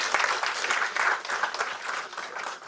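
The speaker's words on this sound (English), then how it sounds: "Please welcome him with a big round of applause." Audience at a naval technology conference session giving a round of applause to welcome the session chair, a steady burst of many people clapping, moderately distant and fading slightly toward the end.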